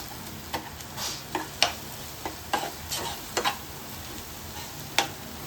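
Onions, tomatoes and masala sautéing for Kerala-style varutharacha chicken curry, a soft steady sizzle punctuated by repeated spatula scrapes and taps against the pan.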